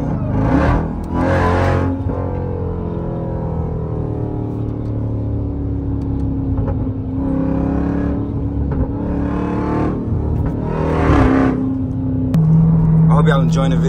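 A Jeep Trackhawk driven hard at night, its supercharger whine rising and falling with each burst of acceleration over a loud engine roar, heard from inside the car.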